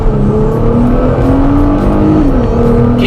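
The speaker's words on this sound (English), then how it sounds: "Can you hear how does the GTR build up the revs very slowly?" A Nissan GT-R supercar accelerates in comfort mode on a rainy road, its engine note climbing slowly and steadily in pitch, loud and close throughout with a continuous droning roar and no voices.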